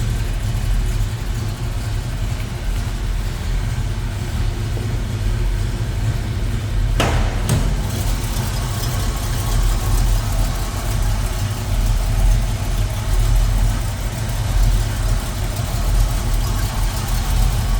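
A 1969 Ford Mustang fastback's 302 V8 with a mild cam, fitted with an Edelbrock Performer intake and Holley four-barrel, idles with a steady low rumble throughout, close and constant, broken once by a brief sharp knock.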